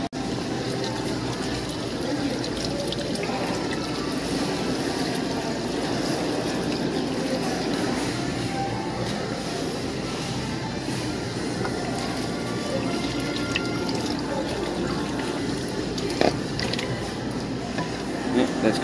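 Water running steadily while refilling a container during repair of a store's produce display case, a continuous broad splashing rush at moderate level with faint mechanical clinks.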